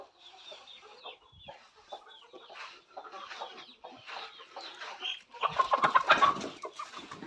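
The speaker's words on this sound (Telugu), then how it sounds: "ఇక్కడైతే గుడ్లు పెట్టే కోళ్ళు" Egg-laying country hens cluck in a farm shed, a steady run of soft, overlapping clucks and calls close by that grows louder and busier toward the end.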